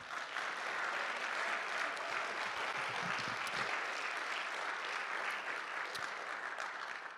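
Sustained audience applause at a Bushwick Book Club mainstage show, a dense steady wash of clapping from a crowd that holds at full strength for several seconds without letting up.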